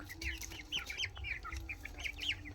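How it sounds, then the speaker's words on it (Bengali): Chickens and a rooster cluck and chirp in quick, repeated calls nearby over low background rumble, with no talking. "ওটা মোরগ"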